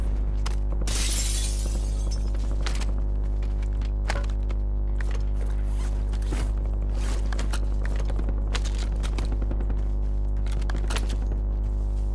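Rapid, sharp gunshots crack out one after another over a steady low hum, irregular and close, with no talking.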